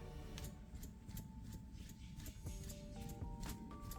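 A PCV valve from a Honda CR-V 1.5L L15BE engine clicks faintly and repeatedly, a string of short sharp ticks over a low background hum.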